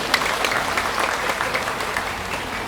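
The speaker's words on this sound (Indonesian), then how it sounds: "Tepuk tangan untuk Bank Mandiri." A hall audience at a Bank Mandiri commitment ceremony in Padang claps steadily, a dense, fairly loud patter of many hands that holds evenly throughout without any speech.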